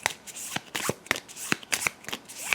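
Playing cards being shuffled for a tabletop game, a series of crisp riffling and snapping bursts in an uneven rhythm, close and clear with no voices.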